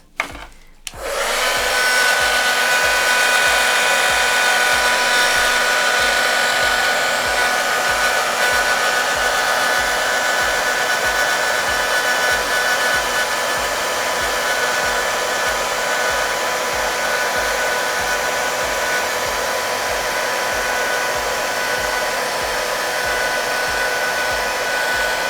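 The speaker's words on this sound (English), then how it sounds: "we're gonna take the hair dryer, we're gonna put it on super hot and super high" Hair dryer on its hottest, highest setting melting crayons for rainbow crayon art, a steady loud whooshing blower drone that starts abruptly and runs unbroken for the whole stretch with no talk.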